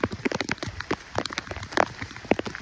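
Heavy rain picks up again on the trail at Karnala Fort, heard as dense, irregular patter and splashes of drops striking nearby surfaces, fairly close and steady throughout.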